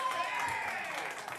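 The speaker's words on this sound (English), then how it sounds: "give them a round of applause" Audience applause greeting an improv comedy cast, a dense steady wash of many hands clapping at once for the whole stretch, fairly distant and even in level.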